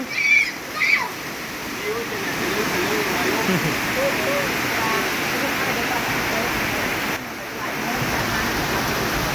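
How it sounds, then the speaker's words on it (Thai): Rainwater rushes along a road during a downpour, a steady, full hiss of flowing water close by, with a voice briefly heard near the start. "พูดน้ำไหลทางเลยพี่น้องน้ำไหลทาง"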